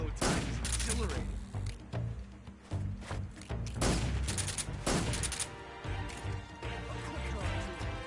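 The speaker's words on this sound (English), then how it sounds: "I'm just shooting him" Gunshots from the stealth-action video game Metal Gear Solid 3, a run of loud sharp blasts and impacts over a busy soundtrack, with a voice speaking over parts of it.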